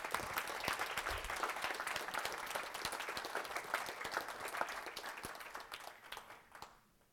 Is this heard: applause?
yes